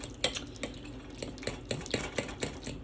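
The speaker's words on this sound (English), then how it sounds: "stirring up our batter" A spoon stirring homemade modeling paste batter in a bowl, quick repeated scraping and clinking strokes at a brisk, uneven rhythm, close up and alone.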